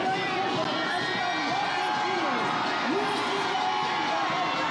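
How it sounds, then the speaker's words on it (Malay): Spectators at Malaysia's 66th National Day parade cheer for the Fire and Rescue Department, a broad continuous roar of crowd noise with a commentator's voice speaking over it throughout. "hadirin yang berada di sini memberikan sorakan yang luar biasa kepada Jabatan Bomba dan Penyelamat"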